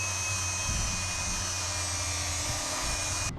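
A power tool, likely a grinder, sharpens a mower-style blade that's in rough shape, giving a steady loud whine with a high tonal ring over a low motor hum, cutting off abruptly at the end.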